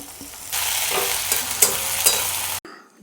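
Onion, tomato and chopped fenugreek leaves sizzle in a hot pan while a spoon stirs them, giving a steady close frying hiss with soft scraping bumps before a brief cutoff.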